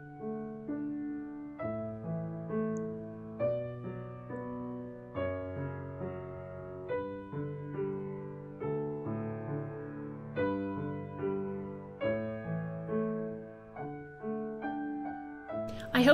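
Pachelbel's Canon in D played on piano with full chords, a steady flowing progression of sustained, layered notes at a soft, even volume, with no talking.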